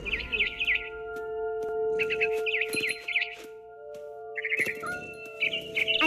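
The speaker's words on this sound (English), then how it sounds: "Then I heard chirping outside my window. It was a barn swallow going back to her nest." A barn swallow chirps in rapid warbling bursts near a window, in What Remains of Edith Finch, with steady ambient game tones humming underneath and brief pauses between calls.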